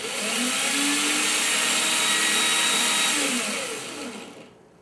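A small 12-volt electric motor switched through a relay whirs with a steady whine, holds speed for about three seconds, then spins down and stops.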